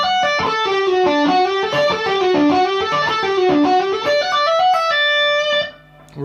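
A fast, continuous distorted electric guitar lick, notes running up and down in a flowing line, loud and sustained before fading out.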